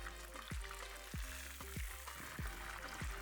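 Tilapia frying in a pan with a steady hiss of oil and a low, continuous hum, regular soft ticks recurring about every half second, faint and without talk.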